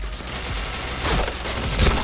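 Gunfire in the online shooter PointBlank: a dense, continuous burst of rapid shots with a couple of sharper, louder cracks near the end, steady and close throughout.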